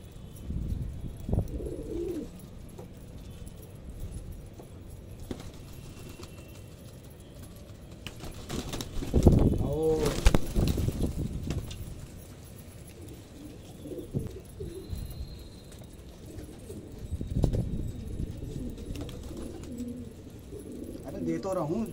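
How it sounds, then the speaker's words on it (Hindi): Pet pigeons being fed roti give soft, low cooing calls scattered through the scene. Someone talks nearby and there are some handling noises and rustles. "दोस्तों मैं डाल लूँ अपने कबूतरों को रोटी"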